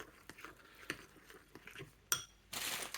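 Spoon clinking and scraping against a very hot plate while sticky oat porridge is stirred, a few light, irregular taps and clinks close by with a brief rustle near the end.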